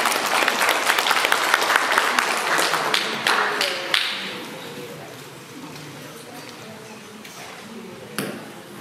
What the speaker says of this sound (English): A big round of applause for the Chief Executive of Age Concern New Zealand, Karen Billings-Jensen.